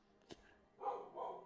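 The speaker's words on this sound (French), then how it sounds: "j'ai mon chien qui aboie." Household dog barking indoors, a sharp bark followed by a couple of softer, muffled yips, fairly close and alone without talk.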